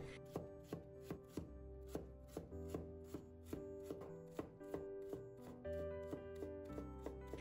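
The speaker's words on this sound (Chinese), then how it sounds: "最后切成胡萝卜丁" A knife chops carrot into small dice on a cutting board, a steady run of crisp, close, evenly spaced thuds repeating for several seconds with no talking.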